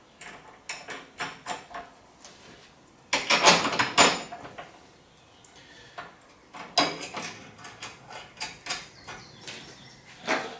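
Bolts being tightened on the hitch of a Brinly 15-gallon tow-behind sprayer during assembly, heard as close metallic clicks and ratcheting bursts with a louder rattling stretch midway, irregular and without talk.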